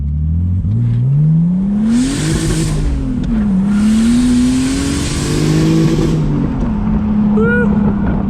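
A turbocharged BMW Z3 or Z4 accelerates hard through rising engine pulls and gear shifts, loud and close from inside or beside the car, with a brief whoop near the end.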